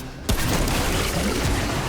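An explosion in the video game Remnant: From the Ashes: a sudden loud blast after a brief quiet moment, followed by a dense roaring, crackling wash that stays loud to the end.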